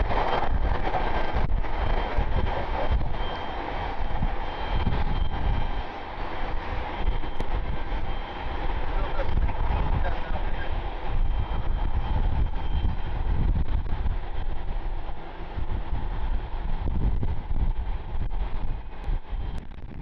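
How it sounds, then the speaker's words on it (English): A United Airlines Boeing 737 MAX 8 airliner at Cleveland Hopkins airport, a continuous broad engine roar with wind buffeting the microphone, steady and fairly loud throughout. "United Airlines Flight 724, MAX 8 heading to Denver."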